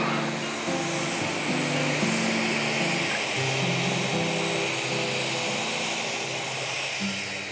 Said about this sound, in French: Le Boeing 767 qui va être utilisé pour le voyage vers Bangkok vient d'atterrir